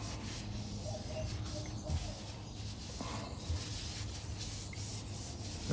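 A cloth wipes a steering wheel clean with Windex, giving a soft, steady rubbing and swishing that is quiet and continuous, with brief louder scrubs.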